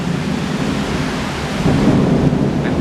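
Thunderstorm in Pattaya, Thailand: steady heavy rain with a low rolling thunder rumble that swells near the end, loud and enveloping.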